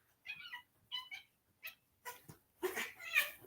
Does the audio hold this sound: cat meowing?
yes